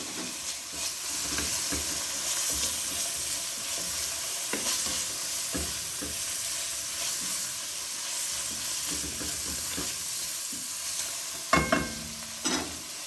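Boiled chicken pieces and a small chopped onion stir-fried with salt for Szechuan Hakka noodles, a steady close sizzle and hiss with scraping stirs and a few sharp metallic clanks near the end.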